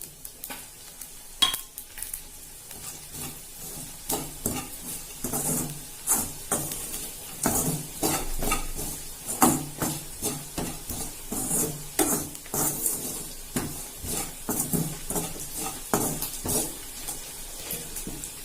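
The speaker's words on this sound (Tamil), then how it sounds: "பொடி சேர்த்ததுக்கு அப்புறம் ரொம்ப வறுக்காண்டா அடுப்பு ஆஃப் பண்ணிக்கலாம்." Grated coconut roasting in a pan with garam masala, turmeric, chili and coriander powders, sizzling softly while a utensil stirs and scrapes against the pan in repeated bursts, with no talking.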